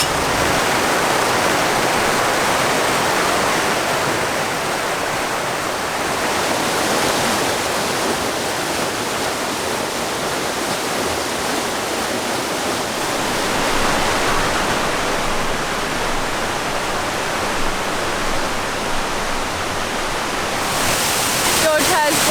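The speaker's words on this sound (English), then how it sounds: "George has brought us to a waterfall just out of Banyuwangi" A waterfall just outside Banyuwangi roars in a dense, unbroken wash of rushing water, loud and close, steady from start to finish with no voices standing out.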